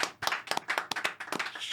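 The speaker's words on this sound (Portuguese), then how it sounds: "Uma salva de palmas" An audience gives a quick round of applause to welcome a guest on a talk show, with crisp, uneven bursts of clapping from a small group of nearby hands.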